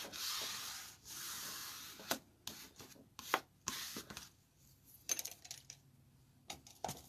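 A bone folder rubbing over scrapbook paper, a soft dry swishing that comes first as a long stroke and then as short, uneven scrapes with small taps in between.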